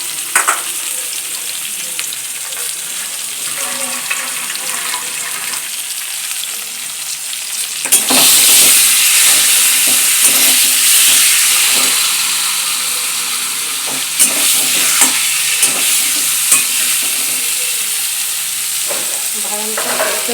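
Peanuts sizzle and fry in hot oil pushed to one side of a pan while greens cook for a vegetarian taro-leaf dish, a steady close crackle that grows louder partway through and carries on without talk.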